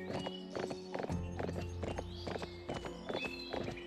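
Horse hooves clip-clop steadily in the Barbie: Wild Horse Rescue video game, a regular walking rhythm of close, clear hoofbeats with no talking over them.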